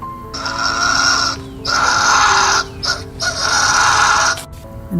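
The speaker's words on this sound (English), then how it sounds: "The Fisher cat." A fisher cat screams in three long, loud, raspy screeches, close and harsh, separated by short breaks over a faint background hiss.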